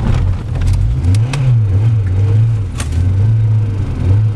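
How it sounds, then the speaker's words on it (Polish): A car engine idling right after being started following a very cold, freezing night, a loud steady low rumble with slight rises and dips in revs, close by and alone. "Próbujemy odpalić."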